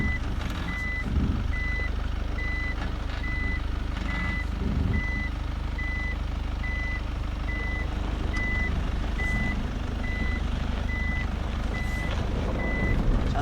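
A Mitsubishi Delica D:5 in reverse gear on an off-road slope gives regular, evenly spaced reversing beeps over a low engine rumble, with occasional knocks and creaks from the vehicle.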